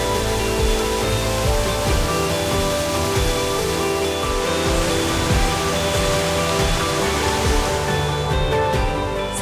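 The Pangeran waterfall in Kampar, a tall fall with a gentle flow, gives a constant dense roar of falling water, steady and fairly loud throughout with no voices.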